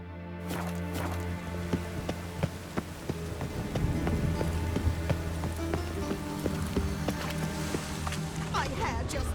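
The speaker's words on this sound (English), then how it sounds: "The rain will ruin it." Steady rain patters down in The Witcher 3, a dense, constant hiss of drops striking surfaces with a few footsteps mixed in, while a character speaks over it.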